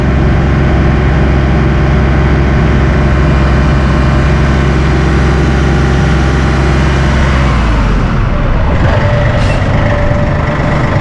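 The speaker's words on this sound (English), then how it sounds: "Now we'll run the RPMs up. Full wide open throttle." A heavy Massey Ferguson tractor diesel engine roars loud and steady at full throttle, then the pitch and load drop near the end as it winds down.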